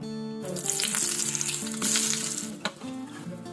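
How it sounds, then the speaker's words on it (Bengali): Brinjal slices fry in a pan for a simple breakfast, a loud continuous sizzle with crackling spatter and occasional utensil scrapes, close up with no talking. "ব্রেকফাস্টে আজকে একদম সিম্পল খাবার বানাচ্ছি বেগুন ভাজা আর তার সাথে রুটি"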